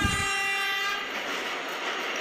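At Charlapalli railway terminal, a train sounds a long, loud, steady horn blast close by while the wagons rumble beneath it.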